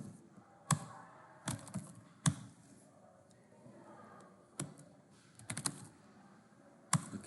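Single keys on a computer keyboard are tapped sharply at irregular intervals while formatting a Microsoft Word document, each click close and distinct against a quiet room.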